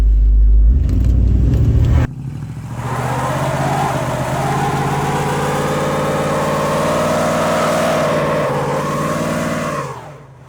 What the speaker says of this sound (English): let's see if she'll do a burn. Just a tiny, tiny little burnout.